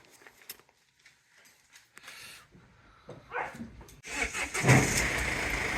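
A Sprinter van's engine turns over and fires after a jump-start, the crank cutting sharply into a loud, steady running rumble up close, with a few brief voices beforehand.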